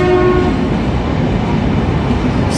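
A Transpennine Express train pulls out of York station, its engine roaring loud and close as a steady rumble, with a short horn-like tone near the start and a hiss at the very end.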